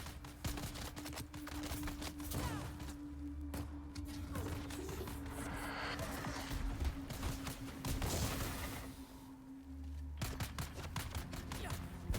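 Rapid volleys of gunfire from players shooting in Dune: Awakening, sharp repeated shots and bursts crackling throughout, fairly faint and mixed with game ambience and a steady hum.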